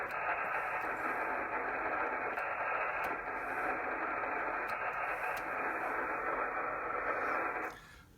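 A Drake TR4C radio gives a steady, hissy band of tone while being switched between upper and lower sideband. It holds loud and even for several seconds, then cuts off abruptly near the end.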